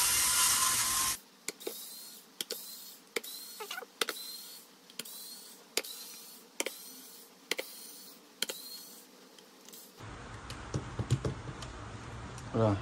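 Small screws being unscrewed from an Xdobo X8 Plus 80 W Bluetooth speaker, a run of evenly spaced sharp ratcheting clicks from a screwdriver, close and fairly quiet, with a short burst of handling noise at the end.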